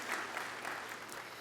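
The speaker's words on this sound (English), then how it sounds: "Let's give another round of applause for Amelia and her awesome team members at Aptiv." Faint applause from a convention audience at a veterans' organization business session, a soft continuous patter of many hands heard from a distance, steady throughout the brief stretch.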